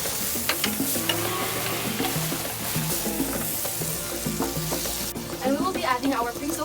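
Tail-on shrimp hit hot oil in a preheated pan for pad thai, giving a loud close sizzle with stirring clatter and bursts of spattering that swell near the end.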